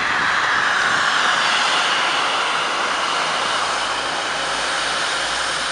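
A British Airways airliner at Montreal's Pierre Elliott Trudeau airport at night gives off a steady, loud broadband jet roar that holds for the whole stretch with no talk over it.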